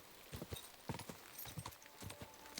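Horse hooves clip-clop in Kingdom Come: Deliverance II, a brisk, uneven run of hoofbeats at close range, steady throughout.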